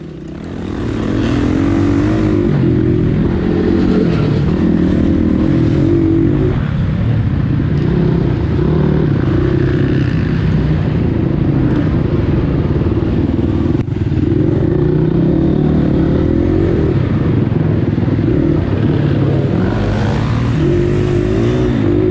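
A dirt bike engine roars continuously at a hare scramble race as the rider leaves the woods for the moto track, loud and close with throttle rises and falls and mechanical clatter.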